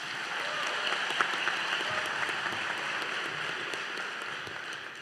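A law school commencement audience claps steadily, a full, even wash of applause that fades slightly at the end, with no voices over it.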